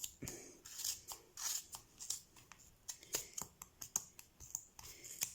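Scissors snip repeatedly around a ball of knitting yarn to trim a pompom for a child's knitted hat, a quick irregular run of close, crisp cuts and light rustles with no talking.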